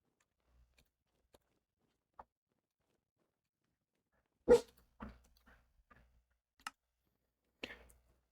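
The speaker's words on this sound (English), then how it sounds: "dog's letting me know that the neighbors are coming by" A dog barking in the cozy farming video game Cozy Meadows: one sharp bark followed by a few softer, scattered yips and small clicks, spread over long stretches of near silence.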